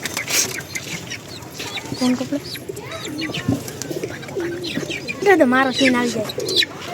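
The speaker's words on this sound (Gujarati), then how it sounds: "આ છે કુકડો" A rooster clucks and calls while held in someone's hand, giving several close, short harmonic clucks in bursts that grow louder toward the end, with people talking and pigeons nearby.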